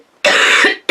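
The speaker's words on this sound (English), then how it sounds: "I'm sorry about the coughs." A single harsh, loud cough bursts out close by from a person who is sick, followed by the start of another cough right after a brief gap.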